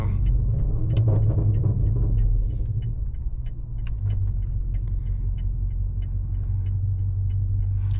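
A low, heavy exhaust rumble from a Stage 2 tuned, roughly 700-horsepower BMW G30 M550i rolls on steadily, heard from inside the car while driving, with a brief rise early on and light clicks scattered over it.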